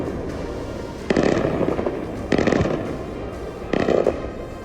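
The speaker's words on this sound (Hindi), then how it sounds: "ये चमक ईरान के बैलिस्टिक मिसाइलों में हो रहे धमाकों की है" Iranian ballistic missiles explode in the sky over Tel Aviv as they are intercepted, three sharp, loud blasts spaced about a second apart over a low background rumble.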